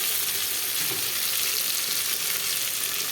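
Boiled potatoes go into spice paste frying in oil in a pan for an egg and fig curry, giving a steady, dense sizzle that holds evenly throughout at close range, with no talking.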